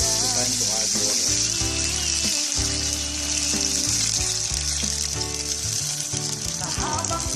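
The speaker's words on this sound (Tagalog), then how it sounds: "So as you see guys, the meat is changing its color. It's time to add water." Water poured into a pan of frying pork for alfritada, sizzling and bubbling loudly and close, with a brief break in the middle and a faint voice now and then.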